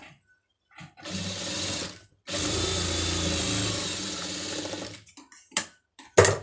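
Sewing machine stitching a folded hem into plain cloth for a pom pom trim design, two steady whirring runs of about a second and three seconds with short pauses and faint handling clicks between.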